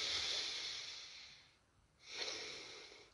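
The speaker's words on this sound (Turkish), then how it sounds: "yine burundan derin bir nefes almaya çalışınız" A slow, deep breath drawn in through the nose during a posture and balance exercise, a long airy inhale that fades, pauses for a moment, then swells again, close and alone without talk.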